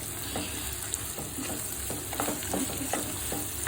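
Chilli chicken ingredients sauté in a hot pan, giving a soft continuous sizzle broken by repeated scraping stirs, quiet and close with no talking.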